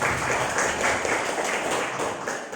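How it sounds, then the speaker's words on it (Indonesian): An audience claps for the head of department at a rural government panel discussion, steady, evenly sustained applause from a seated crowd that holds for a couple of seconds before starting to thin. "Kita beri aplaus kepada Pak Kepala Dinas."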